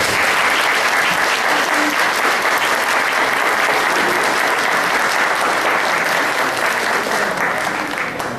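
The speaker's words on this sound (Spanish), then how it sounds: "Un fuerte aplauso, por favor." Loud, dense applause from an audience at a public talk in a museum, sustained and steady for the whole stretch, close and full with no pauses.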